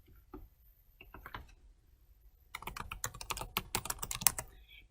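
Password being typed on a computer keyboard: a few scattered keystrokes early, then a quick, dense run of sharp clicks in the second half, close and clear with no talking.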